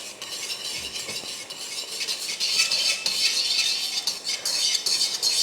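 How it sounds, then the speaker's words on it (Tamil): Gram flour being stirred little by little into sugar syrup for Mysore pak, with a spoon scraping and clinking against the pan in a steady rhythm under a faint sizzle. "கொஞ்சம் கொஞ்சமாக போட்டு கிளறிக்கோங்க"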